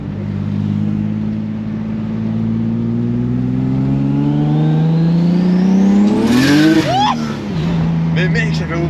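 A turbocharged BMW E36 325i Touring, around 500 hp, accelerates hard with the tyres spinning, a loud rising engine note sweeping upward before a sharp shift and squeal-like burst, with voices talking over it inside the car.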